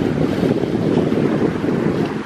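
Strong wind buffets and roars steadily across open water in the Strait of Malacca, loud and close, with no voices.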